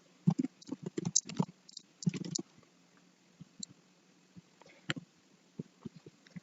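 Light clicking of a computer keyboard as a story title is typed, short irregular bursts of keystrokes close by, sparser toward the end, with no talking.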